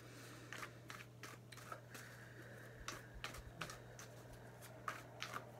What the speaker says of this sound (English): I'm going to pull your cards, give them a little bit of a shuffle.